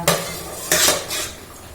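A metal frying pan is handled for tempering in a home kitchen, with two or three short clanks and scrapes of utensils against cookware, close and fairly loud.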